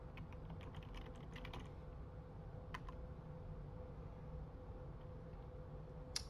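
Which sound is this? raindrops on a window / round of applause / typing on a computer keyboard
typing on a computer keyboard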